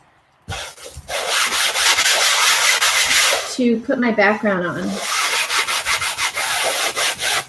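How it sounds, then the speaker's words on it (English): Sandpaper face of a foam sanding block rubbed over an artist's canvas in a studio, a steady rasping scrape with rhythmic strokes close to the microphone, briefly broken by a short spoken phrase midway. "It's foam on one side, sandpaper on the other, and isn't that a nice sound? So I'm just sanding the top and preparing the canvas"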